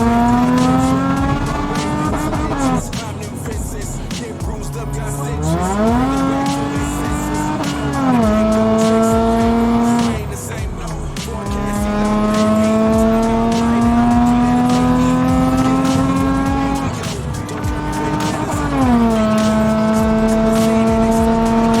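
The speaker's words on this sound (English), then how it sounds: "We are gonna do another pull right now." A supercharged 2003 Nissan 350Z accelerating hard through several gears, loud rising engine pitch with the supercharger whine, dropping at each shift, close and continuous with no talk.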